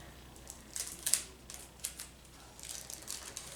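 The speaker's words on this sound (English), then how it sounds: "just taking some transparent tape, taping it to the basket" Transparent tape is pulled and pressed onto a Dollar Tree Easter basket, heard as a few faint, quiet crackly rips and taps in an otherwise still room.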